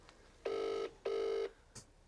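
A phone rings in a school classroom, two long trilling bursts of a bell-like ringtone with a short gap between them, followed by a brief faint chirp, fairly close and clear with no talk over it.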